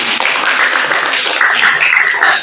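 Classroom of students clapping together after a group presentation, a dense, steady wash of many hands close by that runs the whole moment without a break.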